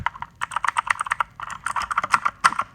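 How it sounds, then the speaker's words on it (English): Rapid clicky keystrokes on a Razer mechanical keyboard, a steady burst of typing with a short pause midway, close and crisp. "So here's a mechanical keyboard."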